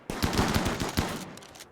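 Rapid bursts of automatic gunfire crackle in a RimWorld colony firefight, several sharp close shots in an uneven rhythm over about a second before tapering off.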